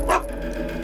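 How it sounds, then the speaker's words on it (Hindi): A pet dog named Brownie at a house gives a single short bark in a Hindi film scene, brief and near, over low background tone. "भौंक क्यों रहे हो?"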